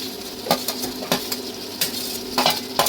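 Tomatoes added to a pan for fish curry bring sharp utensil clinks and taps against the metal at irregular intervals, with light stirring and a faint sizzle underneath, close and fairly clear.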